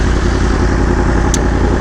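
A motorcycle fitted with an aftermarket exhaust holds a loud, close, steady idle, a deep, even rumble with a dense clattering texture throughout.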